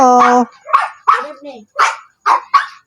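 A dog barks several times in quick succession, close and loud, with short yips between the barks.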